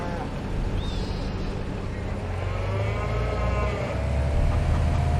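Cattle on a farm in the video game Farming Simulator 25, with drawn-out low moos over a steady mechanical hum of farm machinery, continuous and moderately close.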